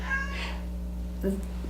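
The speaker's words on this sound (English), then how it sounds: "I have a cat, so you might hear her meowing" A house cat meows faintly indoors, giving a short meow near the start and another brief one later, under a steady low electrical hum.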